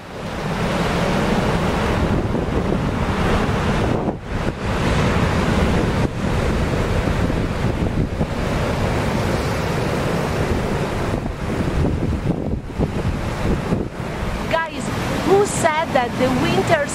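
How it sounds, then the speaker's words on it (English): Winter sea waves roll onto Marina di Bardi beach at Zoagli near Genoa, making a loud, continuous wash of surf with gusty wind buffeting the microphone throughout. "But now I leave you with the magic of the sea."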